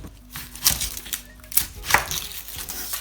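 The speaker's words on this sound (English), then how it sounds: "Then let's cut the onion." Knife chopping an onion on a board, a handful of close, irregular cuts and crisp taps, no talk.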